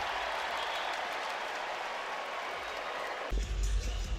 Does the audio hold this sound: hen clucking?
no